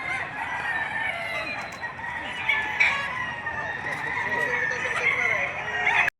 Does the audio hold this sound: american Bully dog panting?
no